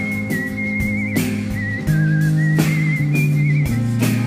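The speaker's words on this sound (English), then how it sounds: "the country doctor whistles across the meadow" A man whistles a wavering melody over a band playing live in a concert performance, clear and prominent above sustained chords and bass notes.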